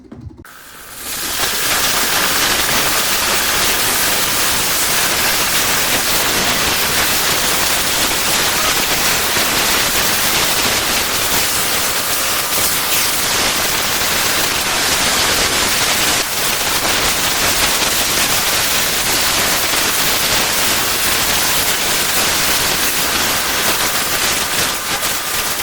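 A Vminno steam cleaner set to level 4 heats its water with a steady, loud broadband hiss that rises within the first second and holds evenly for the rest of the stretch, with no voices.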